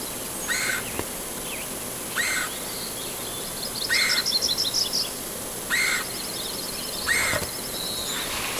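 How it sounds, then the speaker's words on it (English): A bird calls repeatedly near an RV campsite in the Black Hills, sharp chirping notes coming in short bursts about every one and a half seconds, with a quicker trilled phrase in between, clear over quiet outdoor background. "What is that bird?"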